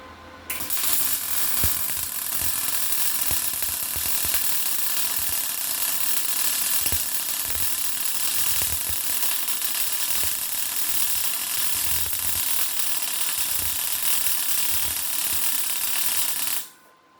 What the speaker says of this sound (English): I want you just to see how much time it takes to do the same length of weld going uphill with the MIG.